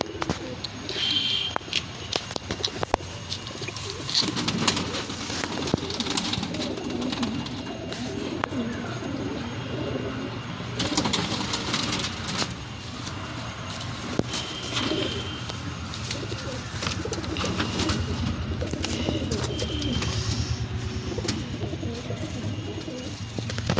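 Andhra breed pigeons coo repeatedly in a loft, with soft, overlapping throaty calls continuing throughout, mixed with scattered chirps and faint background rustling.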